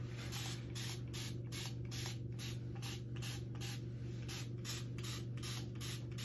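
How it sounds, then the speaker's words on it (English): Steady rhythmic spritzing from a spray bottle wetting hair during a haircut, a quick series of bursts over a low constant hum. "Now I'm gonna spray the top."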